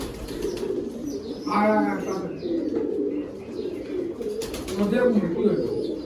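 Lahori pigeon cooing at a loft, soft low rolling coos in two bursts around a close voice talking over a background murmur.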